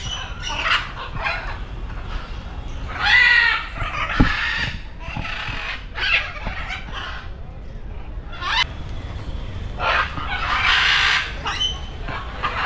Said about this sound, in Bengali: কাকাতুয়া, এইটা কাকাতুয়া।